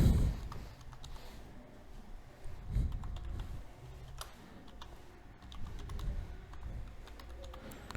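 Typing an email address into an online visa form on a computer keyboard: quiet, irregular bursts of key clicks with short pauses, close and steady over several seconds, no speech.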